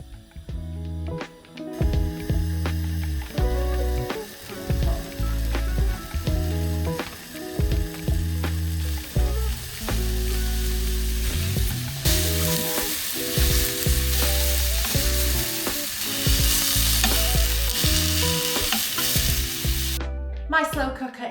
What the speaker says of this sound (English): So I'm going to start off by just browning these in a frying pan for a few minutes.